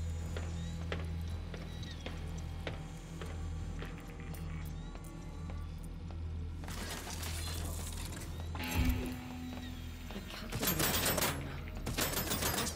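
Automated turret gunfire in the video game Deathloop, bursts of rapid crackling shots that swell into dense volleys in the second half, over a low droning game score.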